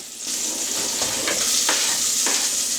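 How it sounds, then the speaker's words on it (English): Chopped onion sizzling in melted butter in a pan: a steady, close frying hiss broken by a few soft stirring knocks. "the butter's melted in the pan, I'm going to add the onion to the pan"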